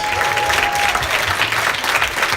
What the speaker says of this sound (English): Let's give our guest of honor, Al, one more big round of applause.